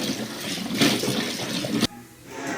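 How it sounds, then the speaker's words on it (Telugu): Water pours and splashes steadily while green chilies are washed, then cuts off abruptly, leaving a quieter trickle and faint room noise. "పచ్చిమిరపకాయలు శుభ్రంగా కడుక్కొని"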